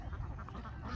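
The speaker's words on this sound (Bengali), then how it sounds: "এই যে এখানে দেখেন অনেকগুলা দেশি হাঁস দেখা যাচ্ছে।" A flock of domestic ducks quacks on the bank of the Titas river, a dense overlapping chatter of calls close by and steady throughout, with no talk.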